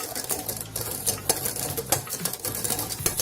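Rapid, steady metallic scraping of a whisk against a saucepan of custard over medium heat, a continuous rhythmic stirring sound close by with no voices.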